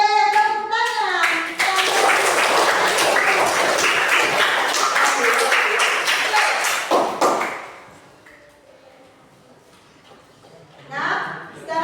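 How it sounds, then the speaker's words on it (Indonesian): Schoolchildren in a second-grade junior high science classroom break into loud, sustained clapping for several seconds, dense and close, then it cuts off into quiet with a brief burst of voices near the end. "Oke, tepuk tangan"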